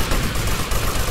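Rapid gunfire from a GTA Vice City Stories shootout, dense and continuous with sustained crackling bursts close up, filling the whole moment without a break.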